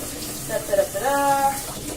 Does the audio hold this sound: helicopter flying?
no